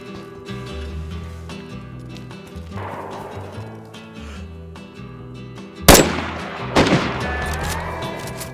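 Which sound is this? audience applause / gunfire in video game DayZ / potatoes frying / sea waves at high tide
gunfire in video game DayZ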